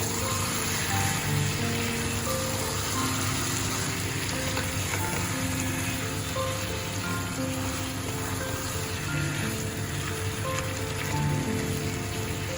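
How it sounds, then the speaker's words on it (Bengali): Chicken and potato curry fries in a pan while being stirred, with a steady, loud, rain-like sizzle and occasional soft scraping strokes, continuous and close. "আবার একটু ভালো করে নাড়াচাড়া করে নিতে হবে আলুটা মাংসের সাথে ভালোভাবে মিশে গেছে কষানো হয়ে গেছে"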